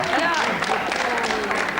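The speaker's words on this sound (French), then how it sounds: "La salle croule sous les applaudissements" A theatre audience at a 1986 French TV variety show gives a dense burst of applause. It crackles steadily under a speaking voice for the whole short stretch, and the old tape makes it slightly muffled.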